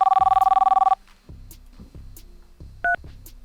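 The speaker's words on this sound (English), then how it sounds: "If you, however, get a phone call from a number that you don't recognize" A telephone gives a rapid string of electronic tone pulses for about a second, followed after a pause by a short two-tone beep, all clear and close with no talking.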